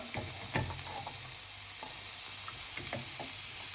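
Mung bean sprouts with carrot and french beans stir-fried in a pan, a steady close sizzle broken by several distinct scraping stirs of a spatula, with no talking.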